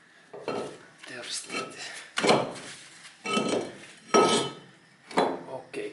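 A metal brake caliper is handled while being removed from a Nissan car: repeated clanks and clinks of metal parts in uneven bursts, close by, with a brief voice.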